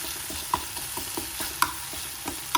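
Close sizzling of onions and tomatoes frying in a pan, with regular scraping stirs and sharp clicks of a spoon against the metal.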